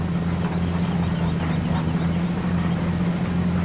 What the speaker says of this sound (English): I like the engine sound too. The engine note is good on it.